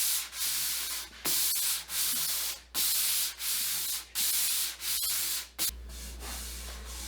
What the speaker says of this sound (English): block out with a 400 grit sandpaper and then finish off with a fine scuff pad